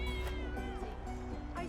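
A cat meows inside the video game Divinity Original Sin 2, set at Fort Joy, its short wavering cries rising over a steady bed of game music and ambience.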